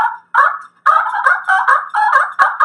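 A turkey call imitates a gobbler's fighting purr, rendered as close, loud, raspy rolling bursts repeated in quick succession with short gaps, alone without talk.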